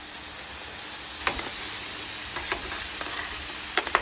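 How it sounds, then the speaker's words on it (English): Bacon and ground beef frying on a Blackstone griddle give a steady, close sizzling hiss, broken by a few sharp clicks and scrapes of stirring. "We're gonna cook half of this bacon on the griddle as well."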